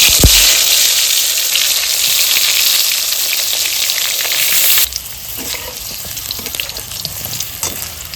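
Pieces of pointed gourd (potol) hit hot mustard oil in a kadai, giving a loud, close sizzle that fades after about five seconds into a quieter crackle with scraping stirs.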